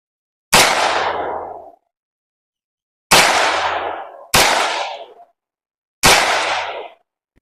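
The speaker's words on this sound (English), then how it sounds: "I'm gonna put some rounds downrange and see how that goes." An AR9 rifle fires four separate shots downrange during zeroing, with a sharp, loud report and a short ringing decay on each, irregularly spaced over several seconds and no talking.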